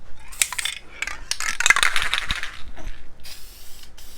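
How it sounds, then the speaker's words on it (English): A spray can hisses in several short bursts as paint goes over the greasy rear end of a car, close and loud, with a rattle and light clatter between sprays. "But instead, here I am painting over grease."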